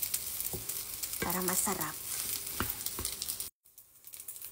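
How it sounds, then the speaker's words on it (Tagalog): Egg fried rice frying and being stirred in a pan, a steady sizzle with scraping mixing strokes; a voice speaks briefly near the end. "pwede na natin i-mix lahat yung ating fried rice"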